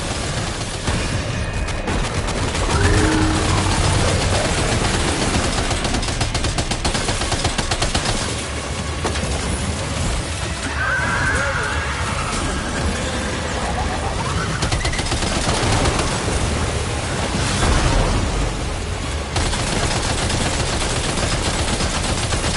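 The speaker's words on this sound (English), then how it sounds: "Opening fire now." Sustained futuristic combat gunfire, dense rapid bursts and volleys of shots continuing for over twenty seconds, loud and close, with no talk.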